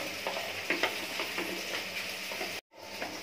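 Spice paste cooking in hot oil with a steady sizzle and a few scraping stirs, close by, broken by a brief cut near the end.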